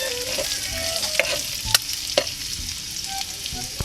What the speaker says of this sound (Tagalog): tapos haluin na natin mga idol.